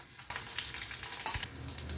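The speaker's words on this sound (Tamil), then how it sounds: "கடுகு பொரியுது" Mustard seeds splutter and pop in hot oil with urad dal, chana dal, dried chili, curry leaves and asafoetida, a dense close sizzle with sharp crackles.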